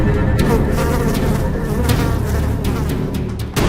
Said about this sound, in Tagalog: Kumakapal ang bilang ng mga langaw na ito kada harvest season.